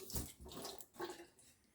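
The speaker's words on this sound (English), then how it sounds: "Just run them under water." Tap water runs over hands being rinsed while making meatballs, several soft splashing bursts at close range, fairly quiet.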